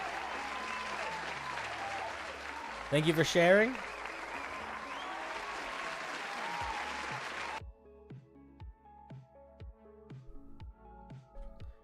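Audience applause rolls on as a thick, steady crowd clatter for several seconds, briefly swelling louder while someone speaks, then cuts off abruptly into light, plucked background music.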